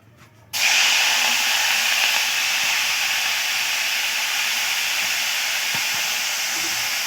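Washed spring onion greens hit hot oil in a home kitchen, setting off a sudden loud hiss that holds as a steady, bright sizzle for several seconds with no talk.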